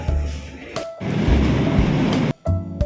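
A light rail (LRT) train rumbles past loudly and steadily, with a brief drop partway through before the roar resumes.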